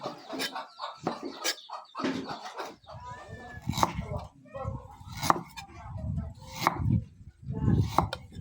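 Knife chopping beef on a board for a Thai beef dish, a run of sharp irregular chops up close, with chickens clucking nearby and people talking over it.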